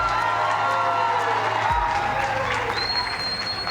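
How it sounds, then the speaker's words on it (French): Applause fills a hall at a televised school quiz match between two Ivorian high schools, a dense continuous roar of clapping with cheers and voices running all the way through. "Et on peut applaudir."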